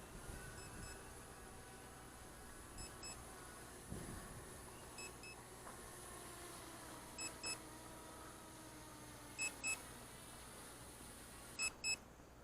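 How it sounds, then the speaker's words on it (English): A Hubsan Zino Mini Pro drone emits faint electronic beeping that repeats in short paired bursts every few seconds over a steady low background hum. "see if the beeping stops"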